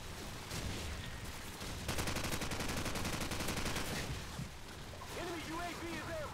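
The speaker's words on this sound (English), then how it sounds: "we switched to the AK now and already got a triple kill" Sustained automatic rifle fire from an AK in Call of Duty 4, dense rapid bursts running through most of the stretch, loud and close, with voices talking over it.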